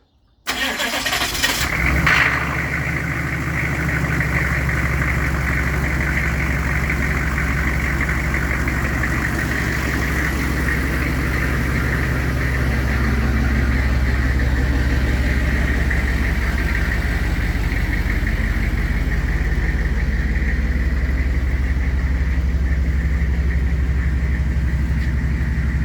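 A GMC 3500HD tow truck with a 6.5 diesel engine cranks and catches, then settles into a steady, loud idle that holds unbroken for about 25 seconds, with no talking.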